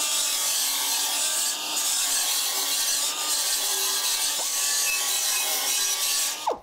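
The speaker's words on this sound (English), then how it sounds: "we're running the slack to deburr the edge" A Dynabrade Dynafile belt sander grinds continuously along a metal edge to deburr it, a steady close abrasive whir that ends with a quick rise and cutoff, with no talking.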